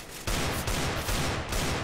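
Gunfire in the CS:GO video game, a few loud close shots in quick succession filling a short stretch.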